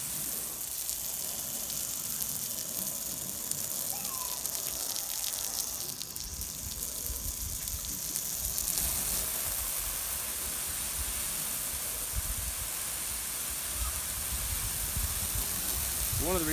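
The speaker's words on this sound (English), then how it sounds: "you can rinse it with a hose here" Garden hose water rinsing an RV windshield after scrubbing with 0000 steel wool, a steady broadband hiss and spray that runs throughout, fairly loud and continuous with slight shifts in intensity.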